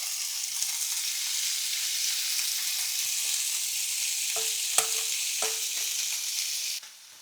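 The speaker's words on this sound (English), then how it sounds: "let's go ahead and put some shrimps in here and start cooking" Shrimp sizzle steadily in a hot pan while being cooked for tacos, a dense continuous hiss broken by a few clinks of a utensil before the frying cuts off abruptly near the end.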